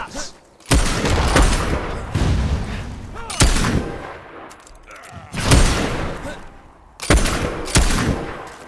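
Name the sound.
gunfire from enemies shooting, Fable 3 video game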